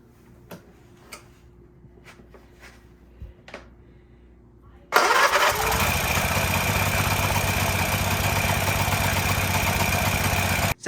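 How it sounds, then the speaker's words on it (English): A Honda EU3000is inverter generator that smokes and won't power up is pull-started after several faint ticks, then its small engine catches and runs loud and steady, close by, to the end. "I'm gonna start it up and see if it runs any better"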